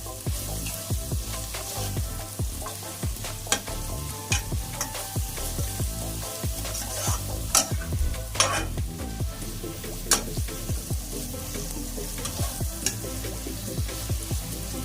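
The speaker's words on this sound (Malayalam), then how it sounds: "ചെറുതായിട്ടൊരു ബ്രൗൺ കളർ ആകുന്ന വരെ ഒന്ന് വഴറ്റി കൊടുക്കണം." Onions sautéing in a pan for vegetable pulao, a dense continuous sizzle broken by repeated scraping strokes of a spoon stirring against the pan, close and fairly loud, with no talking.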